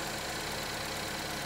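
A 2017 Chevy Equinox with its 2.4 liter four-cylinder engine idling, a steady, even mechanical hum with a faint ticking texture, close and continuous with no talking.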